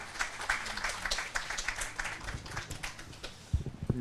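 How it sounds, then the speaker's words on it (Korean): Audience applause at an outdoor March 1st commemoration ceremony in Songpa, Seoul, held in rain, a moderate spread of clapping continuing steadily before fading, with a few low thumps near the end. "큰 박수로 맞이 주시기 바랍니다"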